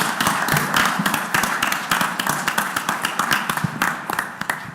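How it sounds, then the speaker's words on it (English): Applause at a Tuscaloosa city council meeting honoring a high school basketball championship team, a smaller group clapping with distinct individual claps and thuds standing out close by, steady then thinning toward the end. "Let's give them a round of applause."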